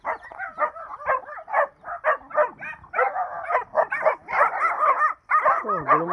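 Several dogs barking and yipping around a rural farm area with rice awaiting harvest, a busy run of repeated barks and whines, fairly close, with a person talking amid them.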